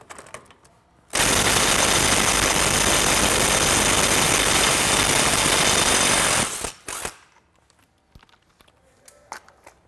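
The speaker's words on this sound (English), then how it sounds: "you're gonna need a 27 millimeter socket to break your axle nut loose." An impact wrench spins a 27 mm socket to break loose the axle nut on a Polaris RZR during a billet hub install, a loud continuous rattling hammer burst of about five seconds, then quieter clicks and handling noises.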